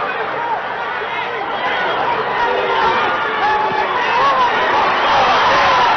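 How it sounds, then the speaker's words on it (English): Boxing arena crowd at Muhammad Ali's heavyweight bout against Alfredo Evangelista, a dense, steady roar of chatter and shouting that swells slightly toward the end. "the crowd roars as Evangelista"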